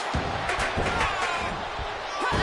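In the WWE 2K26 video game, a wrestler is slammed face first into the mat, giving several heavy thuds against a steady roar of arena crowd noise.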